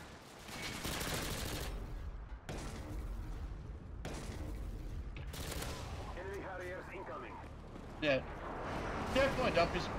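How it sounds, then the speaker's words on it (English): Rapid automatic gunfire bursts from a weapon in the video game Modern Warfare 2, sharp sustained volleys broken by short pauses, with game effects and a few other sounds toward the end. "Wow, this weapon's recoil is so bad."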